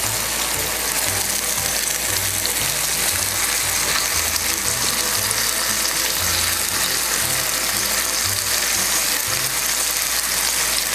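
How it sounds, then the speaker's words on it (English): Veal and chicken cutlets sear in a pan with a continuous loud, dense sizzle and a low rhythmic mechanical clatter underneath, no talking. "Now we're looking to sear the other side"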